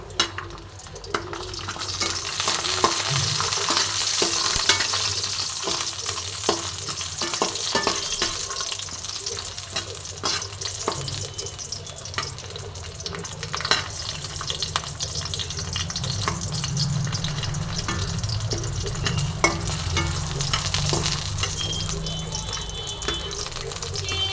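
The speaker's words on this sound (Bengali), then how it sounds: "এবার বড়িটা আমি খুব সুন্দর করে ভেজে নেব।" Lentil bori dumplings crackle and sizzle steadily in hot oil as they are stirred, with occasional clinks from the stirring utensil, while a sour brinjal dish is being made.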